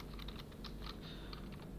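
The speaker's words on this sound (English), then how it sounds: "I have to come up here and type it" Fingers tap a computer keyboard in a quick, irregular run of soft, close keystrokes over a quiet room hum.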